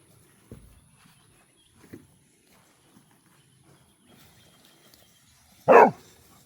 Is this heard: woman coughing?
no